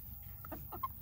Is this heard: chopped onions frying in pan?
no